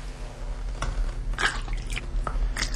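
New Zealand water tipped into a box, heard as a few close, irregular splashes and glugs of liquid over a low background rumble.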